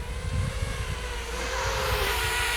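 A FuriBee Darkmax 220 FPV racing drone flies past, its high motor whine building and sustained with a rising buzzing tone, close and fairly loud, with no talking.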